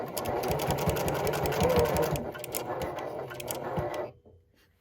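A sewing machine stitches upcycled denim from old jeans, running fast and close with a rapid rhythmic needle chatter for about four seconds before stopping abruptly, after which the room goes nearly silent.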